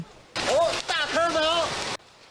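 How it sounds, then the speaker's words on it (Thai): Hail pelts a road and windows during a storm in Xizhi, New Taipei, making a dense, steady hiss of impacts that starts abruptly and cuts off, with a voice speaking over it. "เสียงลูกเห็บที่ตกกระทบถนนและหน้าต่างสร้างความตกใจให้กับประชาชน"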